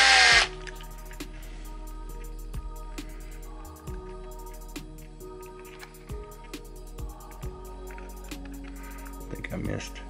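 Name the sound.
power driver running screws back into an RC truck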